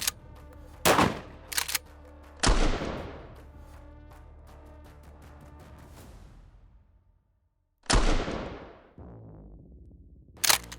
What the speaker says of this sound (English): Vancomp is very easy to fire, feels pretty good.